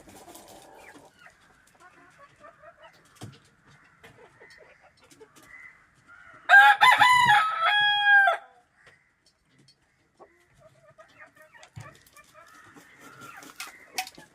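Native free-range chickens dust-bathing outdoors, two roosters among the hens: low scattered clucking and rustling run throughout, broken midway by one loud, close rooster crow of about two seconds.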